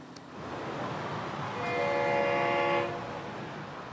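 A Florida East Coast Railway freight train heard from a distance near Bayard, with its horn sounding one sustained chord over a low rumble of rolling cars.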